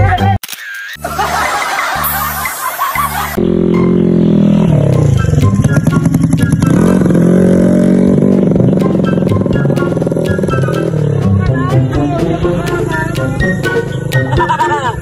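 A motorcycle engine runs loud and close, its pitch rising and falling as it revs, after a short burst of clicking and clattering at the start.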